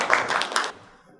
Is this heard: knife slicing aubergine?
no